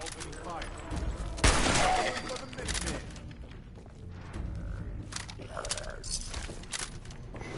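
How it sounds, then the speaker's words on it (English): Gunfire from the Fallout 4 video game, several loud shots and bursts over roughly eight seconds, with a voice talking beneath the shooting. "Stop right there! Opening fire."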